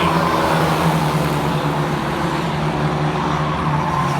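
Racing trucks roar around an oval track in a dense, steady wall of engine noise, loud and continuous with no break.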